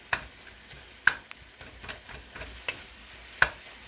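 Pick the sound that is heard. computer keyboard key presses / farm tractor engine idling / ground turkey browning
ground turkey browning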